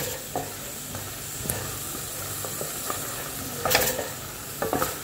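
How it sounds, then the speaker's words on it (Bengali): Chicken mince seasoned with chicken gravy masala stir-fries in a pan with very little oil, giving a steady close sizzle broken by scraping spatula strokes and a few sharp clinks. "এটা এখন ভালো করে একটু কষবো।"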